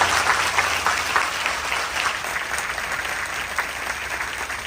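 Audience applause at a public gathering where a speaker warns chicken dealers, dense steady clapping from a large crowd, close and loud throughout without a break.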